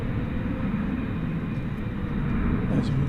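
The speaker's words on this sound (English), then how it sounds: "We've got American 1684 and Airbus A321 going to San Antonio" An American Airlines Airbus A321 jet at DFW airport at night, a steady broadband engine roar held at even loudness throughout, with faint talk over it.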